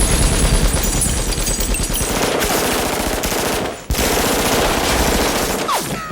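Machine gun fire in The Matrix: dense, loud, rapid bursts rattle almost continuously, with a brief break just before the four-second mark before the barrage resumes.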